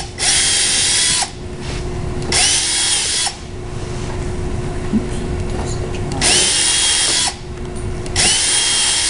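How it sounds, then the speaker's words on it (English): A power drill with a 1/8 inch bit whines in repeated bursts, pulled out about every two seconds to clear chips, with quieter grinding between, close and loud, while making a gem sieve. "we have to drill a little bit, pull out to clear the bit, the chips"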